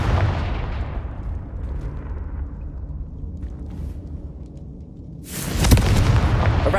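A Confringo blasting spell in Hogwarts Legacy goes off as a loud, broad boom with a rumbling tail that fades over several seconds, followed by a second burst of crackling blast noise.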